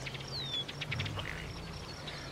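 Ruddy ducks in the wild in British Columbia give a few soft quacking calls over a faint, steady background hum, with a thin high whistle-like note near the start.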